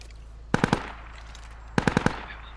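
Gunfire in the video game Squad comes as two quick bursts of three to four rapid shots, separated by about a second of quiet over a low steady hum.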